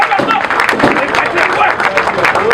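An audience applauding at an African gathering tied to the 26th climate summit, with steady dense clapping and crowd noise running through and voices mixed in.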